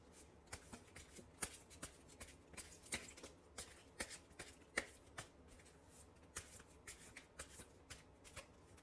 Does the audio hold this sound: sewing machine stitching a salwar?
no